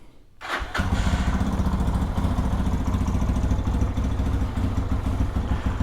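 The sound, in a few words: Lifan KPX 250 dual-sport motorcycle engine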